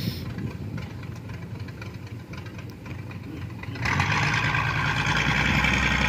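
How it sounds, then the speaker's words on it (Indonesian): A 6D16 diesel engine drives a jukung cargo boat loaded with about 80 tons of coconuts, coupled to an MB170 gearbox turning at 414. It runs as a steady, rumbling drone that grows louder partway through, with no talk. "Mesinnya mesin 6D16"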